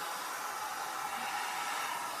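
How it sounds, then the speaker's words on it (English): A brush hair dryer runs steadily on a low setting, a soft continuous airy whoosh with no voices. "It's actually a brush hairdryer."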